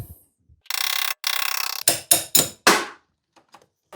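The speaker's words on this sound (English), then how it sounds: "big long extension, and hammer on the end of that." Two buzzing ratchet-like bursts, then four sharp metallic hammer blows in quick succession, close up, followed by quiet: a hammer striking a long socket extension used as a punch on a Suzuki Alto Works gearbox.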